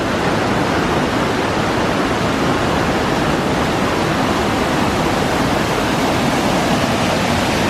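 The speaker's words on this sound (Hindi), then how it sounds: "ये देखो कितनी तेज पानी आ रहा है भाई नीर वाटरफॉल में।" A dense, steady roar of rushing water at Neer waterfall near Rishikesh, swollen by overnight monsoon rain, pours without pause, loud and close, with no voices over it.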